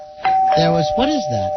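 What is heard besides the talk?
doorbell ringing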